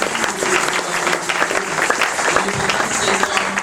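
A church congregation applauds: dense, steady clapping from many hands, lively and close, lasting the whole moment.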